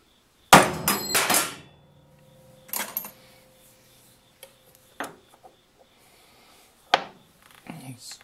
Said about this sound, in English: Now I'll use a center punch.